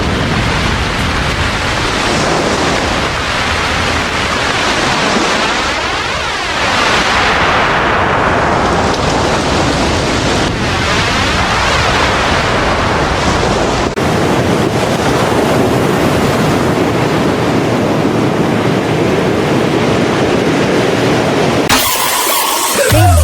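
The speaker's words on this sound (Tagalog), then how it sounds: "At nasasalubong nila ang mga bugso at hampas ng malakas ng hangin at ang taas ng mga alon sa" Strong typhoon winds and high ocean waves during Typhoon Egay, a loud continuous roar of gusting wind and crashing surf with heavy wind buffeting on the microphone throughout, ending in a brief burst of rumbling.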